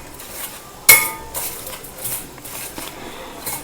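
Dried rose petals and herbs being mixed for a homemade hair oil, with one sharp clink of utensil against a bowl followed by soft, intermittent scraping and stirring rustles close by.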